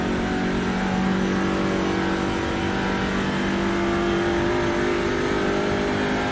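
A TCR race car engine accelerates hard on a night lap of the Nordschleife, a loud, steady close-up roar whose pitch rises gradually throughout.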